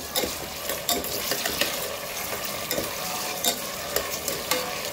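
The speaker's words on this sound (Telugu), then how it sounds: "ఆనియన్ వేగింది కదా, టమాటా కూడా వేసుకుంటున్నాను" Tomato and a little coriander hit a pan of already-fried onion, giving a steady close sizzle with scraping stirs and light clinks of a utensil against the pan throughout; no one talks.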